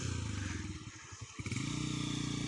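A heavy motorcycle rides a rough, broken road near old Mirpur by the dried-up Mangla Dam, its engine droning steadily close by with brief clattering and scraping midway.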